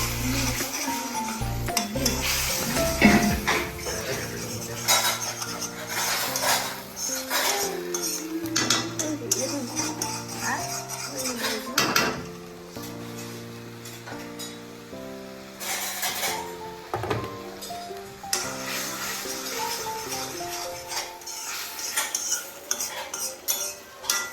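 Cooked semolina (suji) is stirred in a pot, a spoon scraping and clinking against the metal in a steady, close rhythm over a continuous tonal background.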